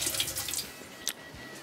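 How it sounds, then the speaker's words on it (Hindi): Tap water runs into a kitchen sink as hands are washed, a steady close hiss with brief splashy bursts and one sharper splash near the end. "हाथ धो लेते हैं पहले।"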